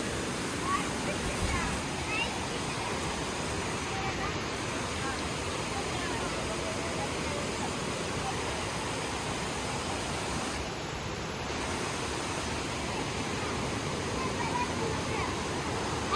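Water flowing steadily at a low-volume waterfall on a hillside, a continuous even rushing wash throughout, with a couple of faint high tones in the background.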